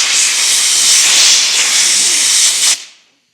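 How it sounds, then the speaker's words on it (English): Compressed air blasts loud and close, blowing cleaned Scout axle bolts dry, a steady hiss that holds for nearly three seconds before cutting off sharply. "now I'm blowing them dry with compressed air"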